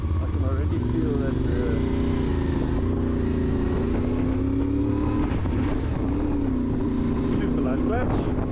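A CFMOTO 450 MT adventure motorcycle engine drones while riding, a close, steady hum that wavers with throttle changes beneath loud wind rush.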